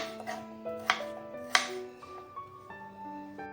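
A few sharp knife chops through elephant foot yam on a board, spaced unevenly, under soft background music.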